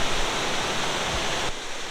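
Steady broadband roar of a high, flooded Smoky Mountains river after Hurricane Ida, a tributary branch pouring in, close and loud throughout, dipping slightly near the end, with nobody speaking.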